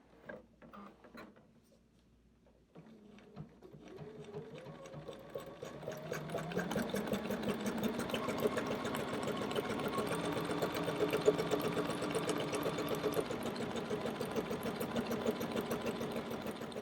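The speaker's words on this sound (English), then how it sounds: "I'm going to use the secure stitch function on my machine so it will knot my thread before I start zigzagging." A sewing machine zigzag stitches an appliqué on a quilt flower block. A few quiet mechanical clicks come first, then a steady close whirring hum with a fast rhythmic needle chatter runs on without pause.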